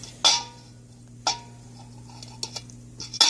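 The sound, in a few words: stirring banana bread batter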